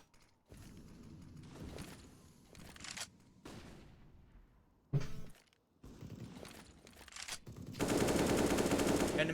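Gunfire from SG553 and AK-47 rifles and a UMP in a shooter video game tournament match comes as repeated rapid automatic bursts, loud and close, separated by short gaps and ending in a sustained dense volley.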